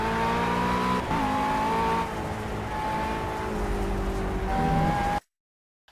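McLaren MP4-12C supercar revving and accelerating through gear shifts at Laguna Seca in the Project Cars racing game, a steady loud engine drone that rises and drops between shifts before cutting out abruptly near the end.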